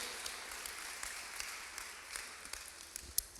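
Quiet, scattered clapping from a church congregation praising the Lord during a Spanish-language sermon, distant and soft with a few sharper claps standing out.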